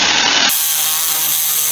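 A power drill bores out a hole on a 6.5 HP Doodle Bug mini-bike, a loud, steady close-up whir that drops to a lower, rougher grind partway through the short burst.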